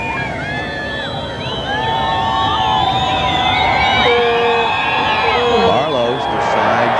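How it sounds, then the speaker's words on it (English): A large crowd at the 1988 Argentine Open polo final cheers and whistles in a loud, sustained roar that swells partway through, with many overlapping whistles and shouts nearby. "Listen to this crowd."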